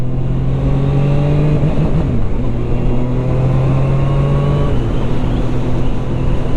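Zontes 703 RR motorcycle engine pulling hard under acceleration, a loud, steady close-up drone with engine pitch climbing through a gear, dipping briefly at a shift, then rising again.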